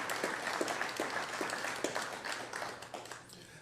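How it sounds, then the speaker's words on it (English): Audience at a business awards event claps for a winning community group, a moderate ripple of handclaps with distinct individual claps standing out, gradually thinning toward the end. "How about another round of applause for Hopewell Helping Hands?"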